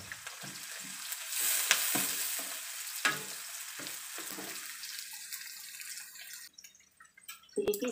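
Sliced chili, ginger and garlic sizzling in hot oil in a pan for fern-shoot and sardine stir-fry, a steady close crackle with stirring scrapes, thinning out toward the end.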